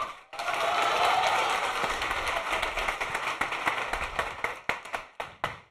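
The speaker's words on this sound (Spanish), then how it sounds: "Un aplauso para todos" A burst of clapping from a group, loud at first, then thinning into scattered individual claps before fading out.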